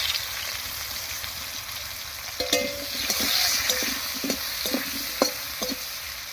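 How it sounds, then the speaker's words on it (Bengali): Pumpkin pieces fry in hot oil with a constant sizzling hiss, punctuated by a series of sharp scraping and tapping stirs of a spatula in the pan, close and clear with no voices. "আর এই তেলের মধ্যে মিষ্টি কুমড়োটাও ভেজে নেব"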